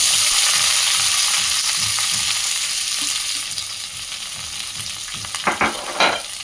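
Onions frying in hot oil as tempering for a brinjal curry give a loud, steady close-up sizzle, with a few sharper stirring scrapes and crackles near the end.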